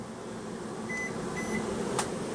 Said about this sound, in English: And microwave works